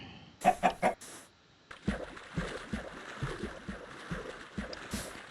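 A chicken in the video game Minecraft gives three quick clucks up close. A run of soft, rhythmic thumping footsteps follows, with no voices.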